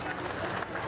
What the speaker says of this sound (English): So, congratulations, give a round of applause now to the first prize winner, Mr. and Mrs. Francis and Sally Goggin from